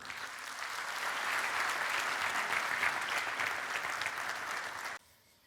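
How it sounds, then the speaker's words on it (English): Audience at a defense technology event breaks into steady, full applause welcoming a speaker, building briefly then holding before cutting off abruptly into near silence. "So give him a big round of applause."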